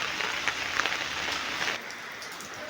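Steady unseasonal winter rain pattering on a surface, a dense hiss of drops with no other sounds, evenly loud throughout.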